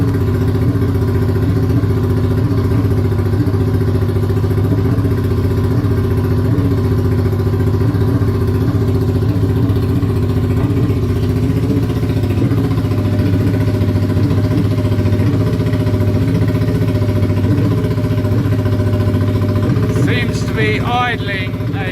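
A cafe racer motorcycle engine idles steadily, slightly high, and loudly throughout with a constant throbbing rumble, and a brief metallic clatter near the end.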